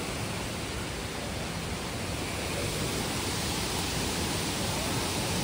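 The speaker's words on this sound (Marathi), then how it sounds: "हा पहा सावडाव धबधबा" Savdav waterfall roars as a dense, steady rush of falling water, loud and unbroken from start to finish, with no voices.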